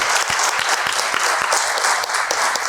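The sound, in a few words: audience applause at a congress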